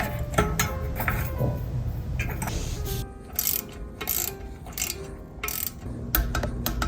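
Brake rotors being fitted to mountain bike wheels for Hope Tech 4 E4 brakes, with a string of close metallic clicks, ratcheting ticks and small tool clatters, some rapid and some spaced out, and no talking.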